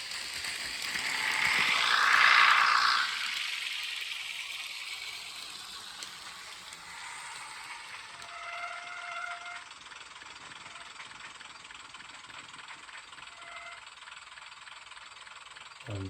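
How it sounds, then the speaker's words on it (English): A sound-fitted Graham Farish Class 101 N gauge model diesel unit brakes on its track, a loud hiss and screech swelling and fading over the first few seconds, then thin squealing tones from the wheels coming to a stop. "you just get the sound of the wheels stopping with that"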